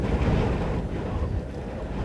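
Strong wind gusting across open country by a creek, a loud, dense rush that buffets the microphone throughout without a break.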